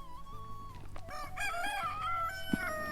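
A rooster crows at dawn, a loud, clear, wavering call that rises and holds over about two seconds, with faint clucking and background rustle.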